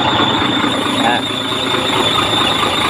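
Air conditioning compressor running on a Shacman truck during repair, a loud steady high whine over engine noise, close by and continuous, with voices present.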